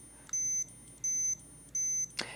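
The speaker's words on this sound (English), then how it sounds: "there's also a mono speaker there that's going to beep to tell you that it's begun the charging process" A Xiaomi Giiker smart Rubik's cube with Bluetooth gives three short, evenly spaced, high-pitched beeps from its small mono speaker as charging begins. A sharp click follows at the end.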